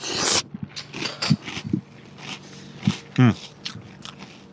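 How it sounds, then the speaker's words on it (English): Close, crunchy chewing of Cocoa Puffs cereal with repeated crisp bites and crackles, mixed with slurping mouth noises and breathy sounds near the microphone. "Sorry about the slurping and chewing noises."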